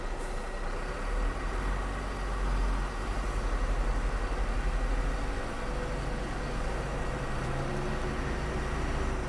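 A Mercedes-Benz Axor Euro 4 truck pulls away off-road in first gear on dirt, its diesel engine a steady, close, dense low rumble with slight surges and no talk.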